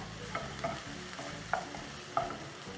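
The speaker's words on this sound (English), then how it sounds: "My onions are caramelizing really, really well, and they're getting this beautiful color" Sausages and caramelizing onions sizzle quietly in a pan, with a soft frying hiss and a few distinct spatula clicks and scrapes spaced out across the moment.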